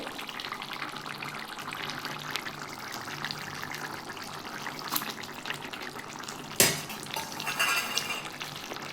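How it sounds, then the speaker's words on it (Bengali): Fried beans tipped into a simmering prawn and potato curry pot, a brief splash and clatter of utensil against metal over a steady low simmer. "ভেজে রাখা সিমটা দিয়ে দিলাম এটা দিয়ে আমি খানিকক্ষণ ফুটি নেবো"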